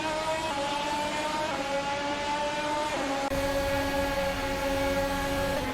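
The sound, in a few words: Formula 1 race cars in 2022 F1 video game race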